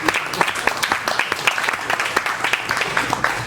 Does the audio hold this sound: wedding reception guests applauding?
yes